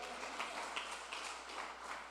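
A church congregation claps during a worship service, a faint, steady wash of distant applause with no distinct individual claps standing out.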